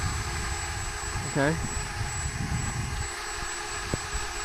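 The motors of a Walkera Runner 250 racing drone spin up with a brief rising whine, then settle into a steady high-pitched hum; someone speaks briefly over it.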